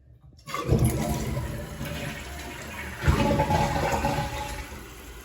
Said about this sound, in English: This is the maiden flush.